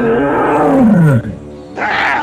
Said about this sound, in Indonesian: Lalu datanglah segerombolan harimau.